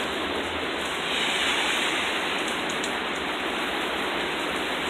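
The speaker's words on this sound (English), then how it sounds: "The rain is actually just pouring. Absolutely, just a complete downpour. You can hear it." Heavy pouring rain in a full downpour, a dense, steady roar of water that stays loud and unbroken from start to finish, with no voices over it.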